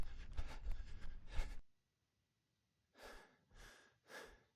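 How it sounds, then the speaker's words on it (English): Deep, hard breathing of a running animated character: a rapid run of heavy panting breaths, a brief silence, then three separate loud exhales spaced about half a second apart. "he runs in and he's sort of breathing hard"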